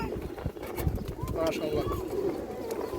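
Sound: pigeon cooing

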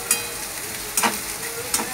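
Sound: onions frying and being stirred in a pan

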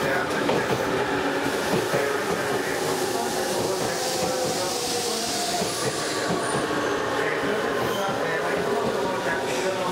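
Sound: Tobu 100 series Spacia limited express train arriving at station

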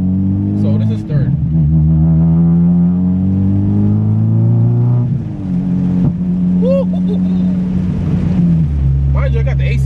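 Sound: Honda car engine accelerating in third gear

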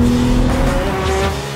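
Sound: Porsche 911 car driving

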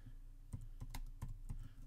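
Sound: typing on a computer keyboard

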